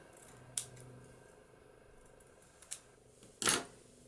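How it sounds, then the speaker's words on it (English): Scissors cut off the edge of a paper craft piece in a few quiet, separate snips. A sharper, louder snip comes near the end in a quiet room. "I'm going to cut that edge off"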